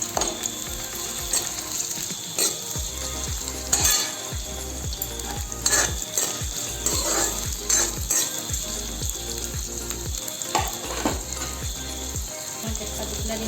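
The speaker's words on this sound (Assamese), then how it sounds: "একেখিনি তেলতে মই পিঁয়াজ দি লৈছো।" Onions frying in a shallow layer of oil that was already used for potatoes, giving a continuous close bubbling sizzle with scattered crackles and occasional utensil clinks throughout.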